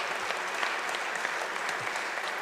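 An audience at an honorary degree ceremony breaks into warm applause, a continuous wash of many hands clapping heard from within the hall, even and sustained without pauses.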